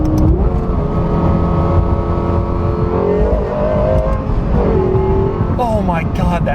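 A Lexus LFA sports car revs hard, its engine note climbing and falling through several sharp rising sweeps, loud and close from inside the car, with a voice talking over parts of it.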